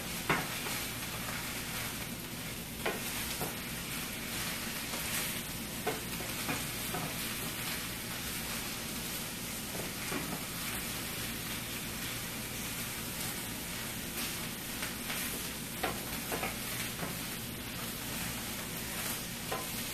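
Steak rolls wrapped around thinly sliced vegetables sizzle in a hot pan with a steady, dense frying hiss, broken now and then by stirring and small pops, all close and loud with no talking.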